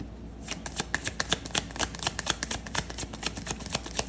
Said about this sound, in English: Shuffling this deck like crazy and nothing's coming out.